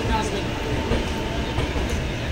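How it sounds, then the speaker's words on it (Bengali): The 12822 Dhauli Express edges slowly toward Shalimar station, giving a brief, steady rolling rumble of carriages heard from on board. "ট্রেন যাচ্ছে স্টেশনের দিকে"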